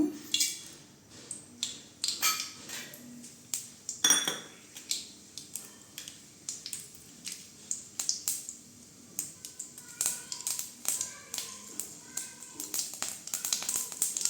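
Mustard seeds and urad dal dropped into hot oil in a pan while cooking a cabbage and moong dal kootu, giving a dense run of sharp crackling pops and clinks that keep going for the whole stretch.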